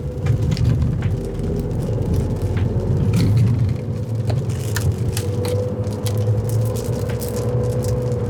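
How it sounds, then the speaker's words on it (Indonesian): A Wuling car on a test drive gives a steady, close engine rumble and road noise heard from inside the cabin, with scattered small knocks and rattles throughout. "Jadi kita tes guys, akselerasinya seperti apa."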